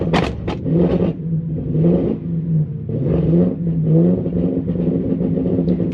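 A Toyota Celsior V8 running poorly idles and revs unevenly nearby, the engine note rising and falling in loud surges with rough, irregular pops from the exhaust.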